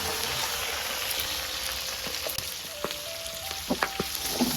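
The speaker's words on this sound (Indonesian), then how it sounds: "lomboknya digoreng dulu lor" Chili peppers frying in hot oil for an Indonesian eggplant sambal give a steady broadband sizzle with scattered pops and crackles, which grow more frequent toward the end.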